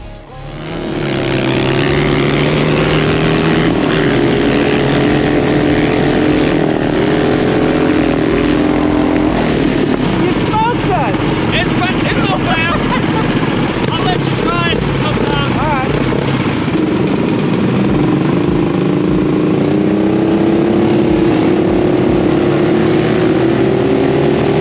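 A dirt hog off-road vehicle at Busco Beach roars loudly and steadily up close, its engine rising and falling in pitch through revs, with voices mixed in under the noise.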